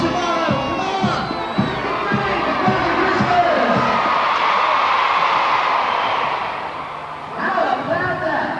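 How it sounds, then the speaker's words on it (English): A large outdoor crowd cheers and shouts loudly and continuously for Father Christmas, with children's voices mixed in, the roar easing slightly toward the end before rising again. "Let's hear a cheer for Father Christmas."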